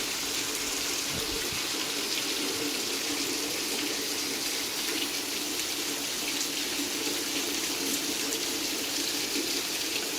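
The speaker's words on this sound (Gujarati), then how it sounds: "હું અંદર રહીને મારા ઘરમાં રહીને તમને બતાવું છું વરસાદ" Heavy night rain heard from inside a house, a dense, continuous hiss of downpour that stays steady and loud for the whole stretch with no voices.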